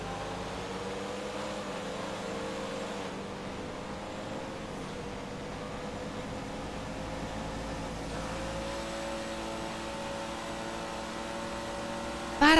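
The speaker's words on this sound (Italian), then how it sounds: "sgomma in terza sta macchina!" A car in GTA 5 Online spins its tires in third gear while the engine revs, a steady droning whine that rises and shifts pitch over about twelve seconds, ending in a sudden burst.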